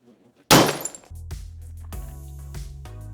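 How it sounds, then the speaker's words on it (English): A wine bottle covered with a rag is struck and shatters in one loud burst of breaking glass, followed by clinking shards settling and a steady low hum in the background. "I'm just gonna throw this rag over this bottle. And then I'm just gonna hit it."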